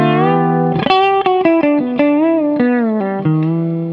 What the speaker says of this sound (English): the flatter, which turns a normal fretted guitar into a fretless guitar